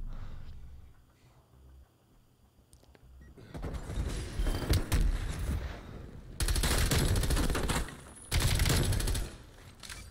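Submachine gun bursts in Call of Duty Black Ops Cold War multiplayer: loud, rapid automatic fire in several sustained bursts, following a quieter stretch with faint game sounds.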